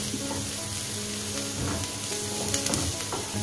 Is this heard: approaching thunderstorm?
no